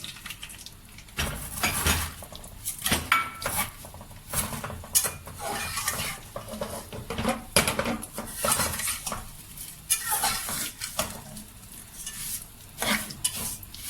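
Vermicelli roasts in ghee with cardamom in a pan, with repeated sharp clinks and scrapes of a spoon stirring against the metal over a faint sizzle, in irregular bursts.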